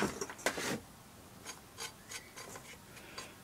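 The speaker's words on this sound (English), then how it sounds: "I'm just going to hold the camera while I take the bolts out." Bolts being taken out of an 8HP Briggs engine by hand: faint, close metallic rubbing and a few spaced ratcheting clicks in a quiet setting, with a brief louder scrape at the start.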